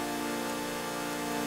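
A stacked synth chord preset in FL Studio, EQ'd, holds one dense, steady sustained chord with a bright, full spread and no attack or change, loud and alone without voices.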